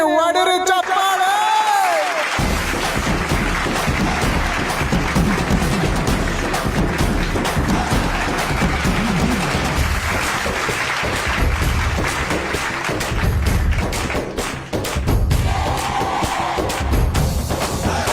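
A crowd breaks into loud, sustained applause at a village panchayat president's swearing-in ceremony in Shivapura, filling the scene after a quiet start and continuing with mixed cheering under it.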